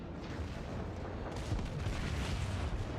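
Warship main guns firing in World of Warships at near point-blank range, heavy booming salvos rolling over a dense, rumbling naval battle background, loud and sustained.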